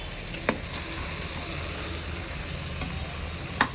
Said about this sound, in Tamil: இப்போ நல்லா ஒரு வதக்கிப்போம்